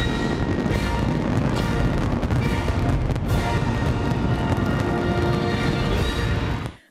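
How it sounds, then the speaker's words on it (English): Macy's 4th of July fireworks over New York City, a dense, continuous wash of booms and crackling bursts that stays loud and unbroken before cutting off at the end. "More than 1 million people gathering to watch Macy's 4th of July fireworks spectacular"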